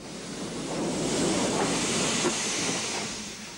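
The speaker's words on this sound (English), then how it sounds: "The 282 tank begins its manoeuvres to run down onto its train." A steady hiss and rumble from a narrow gauge steam tank locomotive in 1960s Portugal as it manoeuvres to run bunker first onto its train, swelling and fading over a few seconds with no voices.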